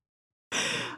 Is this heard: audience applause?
no